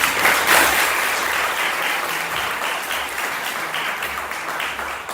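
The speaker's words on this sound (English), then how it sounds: "Let's give a big round of applause to all our students." Full, continuous applause from a school showcase audience in Salvador, Brazil, many hands clapping in a steady dense wash that peaks early and tapers slightly toward the end.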